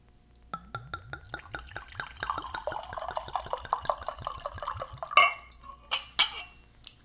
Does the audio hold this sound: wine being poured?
yes